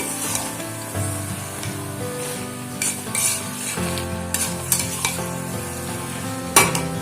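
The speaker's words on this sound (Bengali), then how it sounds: "এভাবেই আমি আরো 5 থেকে 6 মিনিট বারবার নাড়াচাড়া করে শাকটাকে রান্না করব।" Spinach with peanuts cooking in a pan, stirred repeatedly: a steady sizzle with scraping utensil strokes and occasional sharper clinks against the pan, close and continuous for about seven seconds.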